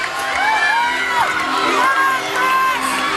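A home crowd at a 2007 NCAA college gymnastics meet cheers loudly throughout, with rising whoops, whistles and shrill shouts layered over a dense roar of applause.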